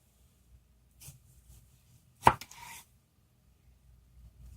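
A Santoku knife slices through a tomato in one quick, crisp cut against the board, heard up close in an otherwise quiet kitchen with only faint handling sounds around it.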